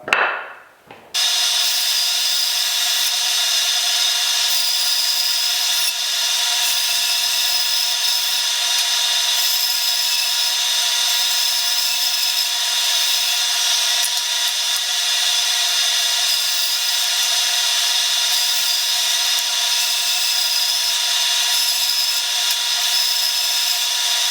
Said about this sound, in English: let's take them over the bandsaw and cut these out